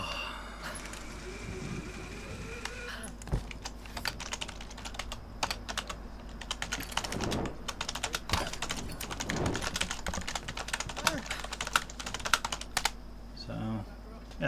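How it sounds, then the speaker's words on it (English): Fingers clatter on a computer keyboard in irregular bursts of sharp key clicks, close and fairly loud, over faint sounds from the Tomb Raider 2013 video game. "I'm typing away as well."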